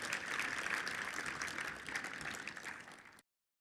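An audience at an evening fundraiser soiree applauds, a quiet, even spread of many hands clapping that tapers off and stops abruptly.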